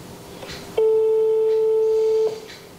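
A single long, steady electronic telephone tone, loud and close, sounds for about a second and a half during an unanswered outgoing call to a real estate agency, with faint room noise before and after.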